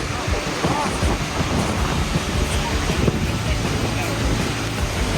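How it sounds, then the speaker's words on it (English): Strong wind roaring at a waterfall on Iceland's south coast, a dense continuous buffeting on the microphone mixed with rushing water, with a voice underneath. "It is quite windy, as you probably can hear"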